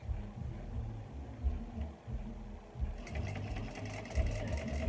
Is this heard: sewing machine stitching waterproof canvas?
yes